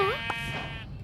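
A goat in the Minecraft video game gives a single short, wavering bleat, fairly loud and close, that fades out quickly.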